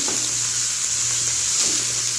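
Butter cooking in a pan for aligot gives a soft, steady sizzle close by with faint stirring, continuous and without speech.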